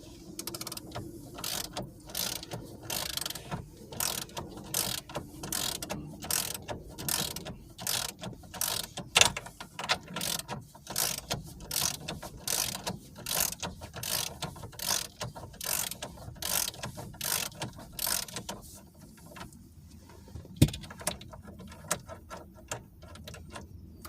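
Ratchet with a 13/16 spark plug socket clicks rapidly and steadily while loosening the steering wheel nut on a 2009 Chevy Cobalt, a long run of close, even ratcheting strokes with brief pauses.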